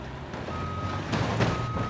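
A truck backs up in the BeamNG driving simulator, its reversing alarm holding one steady tone throughout, with engine rumble and a few louder knocks and crunches near the end.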